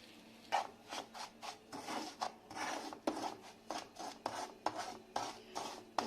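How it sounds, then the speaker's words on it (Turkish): Semolina roasting in a pan while being stirred, making repeated soft scraping and rasping strokes of a utensil against the pan, close and quiet, in an uneven rhythm. "Şimdi kavurup daha sonra devamını göstereceğim"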